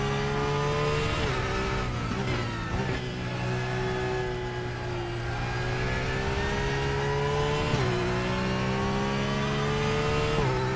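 A Porsche race car engine in a racing video game holds a loud, continuous high-revving drone with small dips at gear changes, steady and close throughout with no talking.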